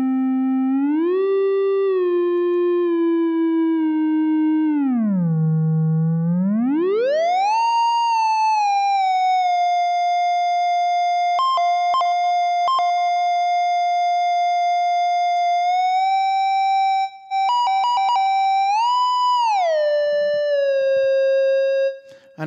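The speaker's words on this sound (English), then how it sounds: "So it sounds similar to a theremin type thing." Theremin-like electronic tones from the Petites Ondes iPad app, a pure gliding pitch with rich harmonics that swoops low, then rises and holds steady with slight wavers and a few quick bends, loud and alone throughout.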